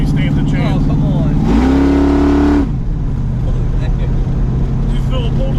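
A 1968 Camaro with a 502 engine and Holley EFI Sniper accelerates hard, its loud engine climbing into a roaring rev for about a second before easing back to a steady drone. People talk in the car.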